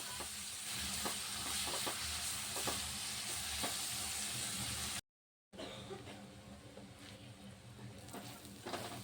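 Pav bhaji vegetables sautéing in a pan give a dense, continuous sizzle with stirring clatter, broken by a brief silent cut before the hiss resumes.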